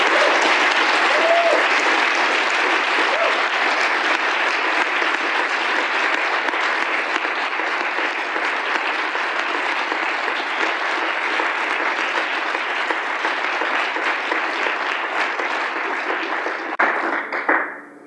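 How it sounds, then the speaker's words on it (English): A large festival audience gives a big, prolonged round of applause, loud and dense throughout before cutting off abruptly at the end. "So let's have a big round of applause"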